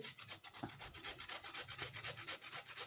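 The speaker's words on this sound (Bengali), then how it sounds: "পাটালি গুড়টাও আমি একটু গুঁড়ো করে নেব" Patali palm jaggery is crushed by hand, giving a soft, continuous gritty rubbing and crumbling, quiet and close with no talking.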